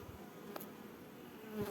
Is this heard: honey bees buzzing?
yes